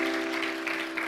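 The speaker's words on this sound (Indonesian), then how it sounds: "Boleh beri tepuk tangan lagi?" Audience applause at a junior high school graduation ceremony, a steady wash of clapping from a crowd under a faint sustained tone.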